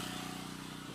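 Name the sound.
generator running outside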